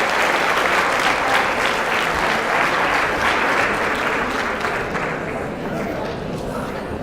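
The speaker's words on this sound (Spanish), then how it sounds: "Un aplauso para la doctora." Audience applause at an animal health company event in Chile, a sustained burst of clapping from a crowd that fades slightly toward the end, with some voices mixed in.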